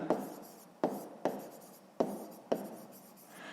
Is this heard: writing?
yes